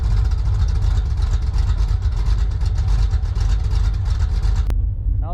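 Car with a freshly swapped four-speed manual transmission driving on a test run, a loud steady engine drone with low rumble throughout, close and continuous, cutting off sharply near the end.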